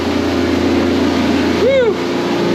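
A generator drones steadily at an off-grid homestead during a blizzard, a continuous close hum with a short voiced sound over it near the end.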